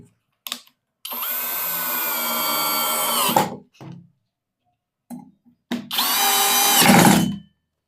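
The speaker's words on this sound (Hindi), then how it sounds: "अब बस हम इसके अंदर लगा देंगे स्क्रू। ये मशीन ब्रशलेस है, ऊपर से 21 वोल्ट का पावर है" A brushless 21 V cordless drill drives screws in two sustained high whining bursts of about two seconds each, separated by short blips and a pause, loud and close with no talk.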